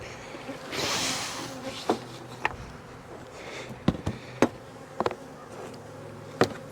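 Honeybees buzzing around an open single brood chamber hive in spring, a soft steady drone with occasional sharp clicks and knocks of the hive being handled, fairly quiet and close.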